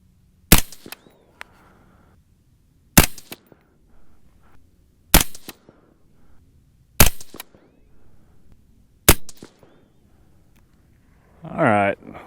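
Five sharp, loud rifle shots from a Uintah Precision UPR15 in .223 Rem, spaced about two seconds apart, each ringing briefly outdoors, followed by a short burst of talking.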